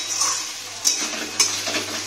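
Ginger-garlic paste fries in a pan with a steady, soft sizzle, broken by two sharp clinks of a spoon against the metal as it is stirred.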